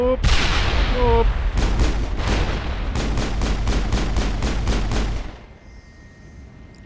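Grenade explosions and rapid gunfire in the video game Mass Effect 1, a dense loud barrage of repeated sharp shots and booms lasting several seconds before fading into quieter game ambience.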